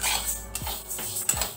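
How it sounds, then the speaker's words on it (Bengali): Moong dal dry-fried in a pan is stirred, with a utensil knocking and scraping against the pan three times over a faint background hiss; no talk. "ডালটা কন্টিনিউ নেড়ে যেতে হবে, নাহলে কিন্তু পুড়ে যেতে পারে।"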